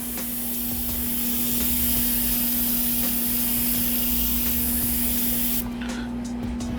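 An airbrush sprays paint onto a 3D print in a steady, close hiss with a constant motor-like hum underneath, running continuously and easing off near the end.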